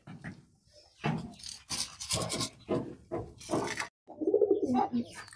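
Pigeons in a loft coo in low, repeated throaty bursts while being fed, close and clear, with rustling and a voice talking in between.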